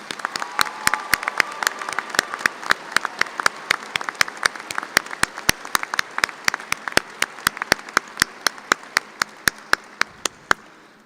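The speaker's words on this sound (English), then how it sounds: "Please recognize these individuals with a round of applause." An audience at a ceremony applauds recognized faculty, a steady burst of many hands clapping that carries on loud and close for about eleven seconds, with sharp individual claps standing out above the crowd.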